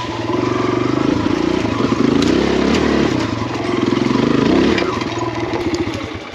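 An enduro motorcycle engine revs hard and without a break on a mountain trail. The loud, close engine note rises and falls as the throttle changes.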